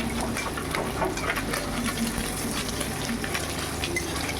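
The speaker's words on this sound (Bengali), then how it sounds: "মাছগুলো ভাজা হয়ে গেছে আমার, এবার তুলে দেবো।" Fried amodi fish lifted from sizzling oil, a steady crackling fry hiss running continuously at moderate level with faint liquid bubbling, no voices.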